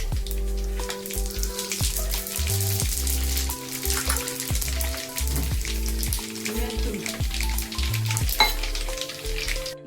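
Mustard seeds and cumin sizzle steadily in hot oil while tomato pickle is being made, with a continuous crackling fry running throughout and low thumping kitchen sounds beneath; no talking.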